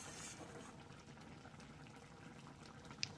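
A lentil and egg curry simmers in a pot with a faint, steady low bubbling and soft liquid texture in a quiet kitchen, with one tiny click near the end.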